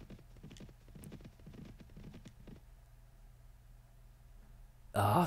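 Horses ridden in the medieval video game Mount & Blade: Warband: rapid hoofbeats drum for about two and a half seconds and then die away, followed by a brief loud burst of noise at the end.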